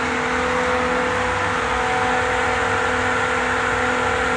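A pool filter pump runs at 2,400 RPM on a 24-hour cycle, giving a loud, steady electric motor drone with a constant tonal hum that holds unchanged throughout, with no voices.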